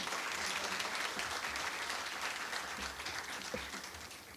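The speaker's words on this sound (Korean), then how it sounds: "다시 한번 좀 큰 박수 좀 부탁드리겠습니다." Sustained applause from an audience at a welfare center's village-oriented symposium ceremony in Korea, a steady, even wash of clapping that holds throughout at moderate distance, softening slightly toward the end.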